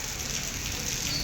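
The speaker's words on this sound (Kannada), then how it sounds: "ಫುಲ್ಲು ಮಳೆ ಬಂದಿದೆ" Heavy rain pours steadily over a cricket ground at Indira Nagar, a dense, unbroken hiss of falling water on surfaces with no voices.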